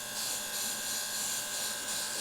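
A battery-powered airbrush gives a constant, thin motor buzz with a hissing spray while painting a demon skull, running steadily throughout, fairly quiet, with no voices.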